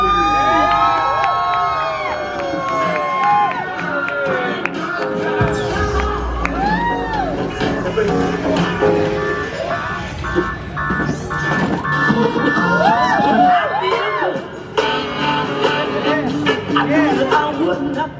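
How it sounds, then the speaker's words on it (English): A theme park crowd at the Universal Studios Bumblebee show cheers and shouts, with children's whoops and screams over a dense, sustained roar. "Make some noise for Lieutenant Bumblebee!"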